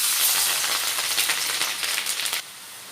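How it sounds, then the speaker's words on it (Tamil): Finely chopped garlic dropped into hot oil in a pan sizzles with a bright, crackling hiss that holds steady, then cuts off abruptly near the end. "பூண்டு போட்டுக்கலாம்."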